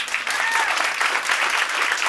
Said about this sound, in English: Round of applause for Trisha.